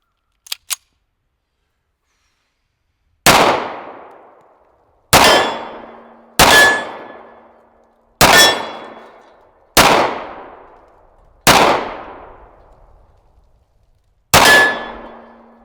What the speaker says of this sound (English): Tisas Tank Commander, first shots.